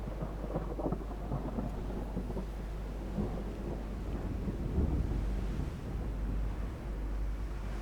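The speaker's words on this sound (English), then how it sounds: "Like that, with the lightning strike in the background." Thunder rumbles from a lightning strike during a stormy naval battle in Ultimate Admiral Dreadnoughts, a deep, continuous roll with rain and wind noise, swelling and easing across the whole stretch with no talk.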